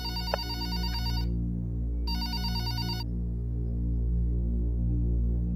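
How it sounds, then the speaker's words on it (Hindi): A telephone rings twice in long, steady electronic trills with a pause between, heard over a constant low hum with no talking. "फोन बज रहा है, कोई उठा ही नहीं रहा।"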